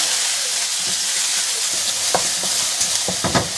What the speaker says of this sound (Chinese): 接着我们下入海鲜干货给它炒香